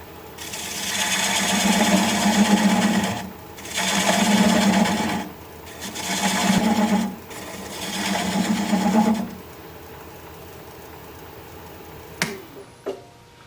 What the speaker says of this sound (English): The lathe is spinning at 500 RPM.